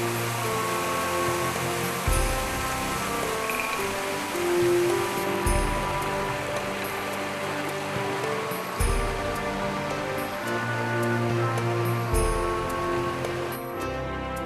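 The Vitello d'Oro waterfall near Farindola in the province of Pescara gives a steady, even rush of falling water heard beneath music.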